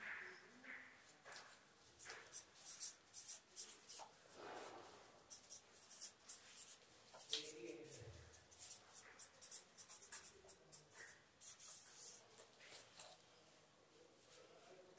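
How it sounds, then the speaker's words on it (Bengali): Faint handwriting during a Bengali genomics lecture, a quiet run of pen or marker scratches and short strokes in uneven rhythm, close to the microphone. "তো সেটা লিখি।"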